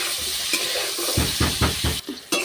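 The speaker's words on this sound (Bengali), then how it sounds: "আমি এবার এগুলো ভাজা ভাজাটা করে নিই" Slices of raw plantain fry in a pan while being stirred: a steady sizzle with a run of rhythmic, close scraping strokes, then a short pause before the sizzle returns.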